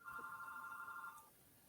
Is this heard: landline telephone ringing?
yes